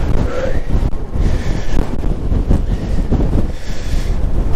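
Strong wind of 40 to 60 km/h buffets the microphone outdoors, a loud continuous rumbling roar with gusty surges throughout.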